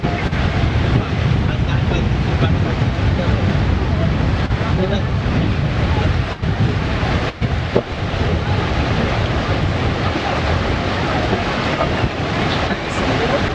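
Strong wind roars across the microphone with a steady rush of surf underneath on Praia do Mar Casado beach in Guarujá, a loud, constant broadband wash with no clear breaks.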